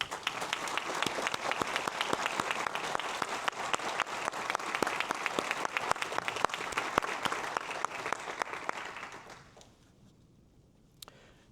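An audience claps for graduates at a university hooding ceremony, dense applause with crisp individual claps that fades out near the end, leaving a few scattered claps.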